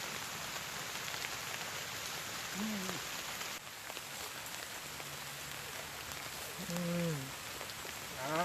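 Steady heavy rain from tropical storm Noul hisses across a surface, a dense continuous wash, with a few faint voices briefly heard in the background.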